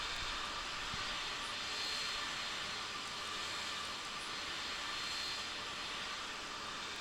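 A jet airliner's engines roar in a steady, broad hiss and whine as it lands at a busy night airport in the Tower Simulator 3 game, a sustained, fairly even wash of engine noise with no talk.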